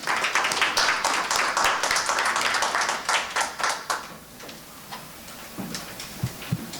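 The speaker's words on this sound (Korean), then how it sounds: "박수로 맞으십시오." A conference audience applauding a speaker as he is introduced: brisk, dense clapping that thins into scattered claps and fades, with a few soft knocks at the end.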